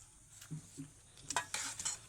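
A spoon scrapes and knocks through biryani rice and gravy in a large pot, making a few soft, close stirring strokes and clinks, clustered near the end with quiet gaps between.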